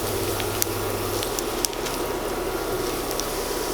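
Garlic, curry leaves and chopped lemongrass saute in hot coconut oil for a Kerala-style buffalo beef curry, a dense, steady close hiss with faint scattered crackles.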